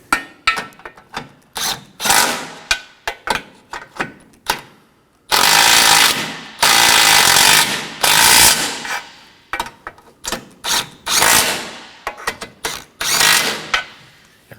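A tool snugs down the 13mm nuts on a 2015-2023 Nissan Maxima front bumper impact absorber in a series of close, sharp bursts with brief gaps, some strokes longer and sustained, and no speech.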